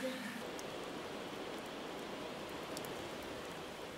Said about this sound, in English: It's raining in Chamonix.